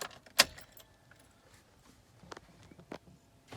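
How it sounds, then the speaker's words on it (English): Car keys jangle close by as the ignition of an Acura MDX from the 2007–2013 years is turned on, one bright metallic rattle followed by a few fainter clicks and clinks in a quiet interior, with no talking. "First you want to turn on the ignition."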